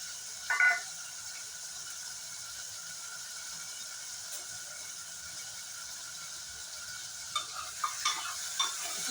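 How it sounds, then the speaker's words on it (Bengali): Green chillies and curry leaves frying in a pan for dal, a faint steady sizzle with a brief louder crackle early on and a few small spatters near the end, no talking. "সবকটা দিয়ে খুব সুন্দরভাবে ফ্রাই করে নেব।"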